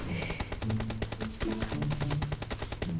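Rapid automatic gunfire in the video game PUBG, with loud, close bursts of shots cracking in a fast, uneven rhythm from start to finish.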